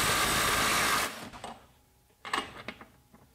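A budget cordless impact wrench runs in reverse at its top speed setting, a loud dense whirring hammer for about a second that cuts off, followed by a few scattered clicks and knocks.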